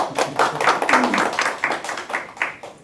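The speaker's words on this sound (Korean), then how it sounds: "박수 한번 주세요" A lecture audience gives a brief round of applause, a dense patter of many hands clapping at moderate loudness for a few seconds.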